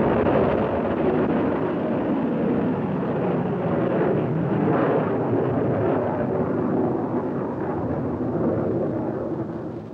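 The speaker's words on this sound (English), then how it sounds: "Last to be demonstrated was the Army's Nike Zeus, the nation's only anti-missile missile under advanced development." The Army's Nike Zeus anti-missile missile launches at White Sands Missile Range, a continuous distant rumbling roar that stays steady for several seconds and then fades slightly.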